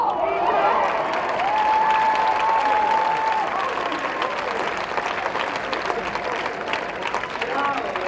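Spectators at the 2009 Queens Cup polo final, Apes Hill versus Sumaya, burst into sustained applause and cheering, a dense wash of clapping with whistles, loud and continuous, while a commentator talks over it.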